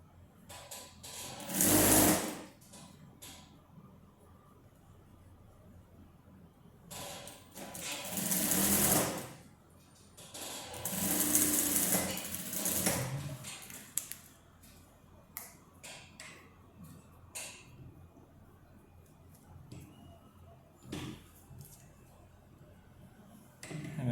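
Sewing machine stitching the seams of a wrap dress in three loud bursts of rapid stitching, each a few seconds long, separated by quieter handling sounds and faint movement.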